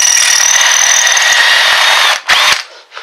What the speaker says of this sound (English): So, we'll drill a little hole on this side